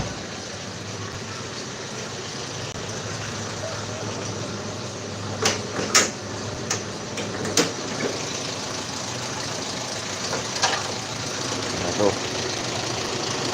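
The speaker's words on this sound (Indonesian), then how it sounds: "Ini kedengeran kan suara ranti kelep ya teman-teman ya." An old 1987 Toyota Kijang Super engine idles steadily with a constant low rumble and faint valve chain ticking, broken by a few sharp clunks and knocks, while someone speaks briefly nearby.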